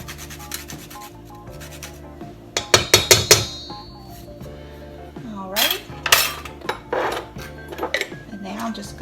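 A wire whisk scrapes and clinks against a bowl, mixing dry ingredients with freshly grated nutmeg for zucchini bread, in rapid bursts of rubbing and metallic taps, close and fairly loud, with music-like tones underneath.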